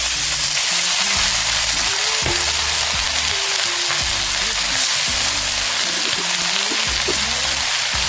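Leafy greens and Malabar spinach stems sizzle and fry steadily in a pan for a village-style chorchori, a continuous loud hiss with a voice speaking over it.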